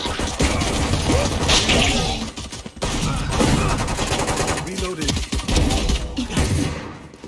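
Valorant gunfire rattles in dense, near-continuous bursts with clicking mechanical weapon sounds, loud and close, while game noise fills the background and a voice speaks briefly under it.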